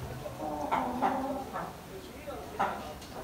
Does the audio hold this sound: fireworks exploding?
no